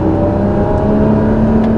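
A Porsche Boxster 2.7 (981) sports car engine revving on a kick-down, a smooth steady whirring drone heard loud from inside the cabin, rising slightly in pitch and holding without talk.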